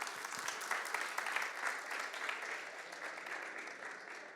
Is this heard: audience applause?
yes